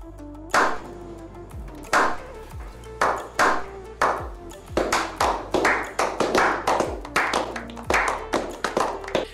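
A series of sharp hand claps, some spaced apart and then quicker in a steady run, close and fairly loud with no talking.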